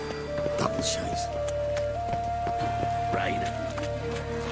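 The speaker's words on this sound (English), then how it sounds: "Raining." Steady rain falls in The Witcher 3 Wild Hunt, a soft continuous patter under sustained game music, with a voice speaking over it and faint thuds.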